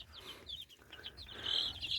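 Young ducks or chicks cheep softly in a series of high, thin chirps while being held, fairly faint against low background noise.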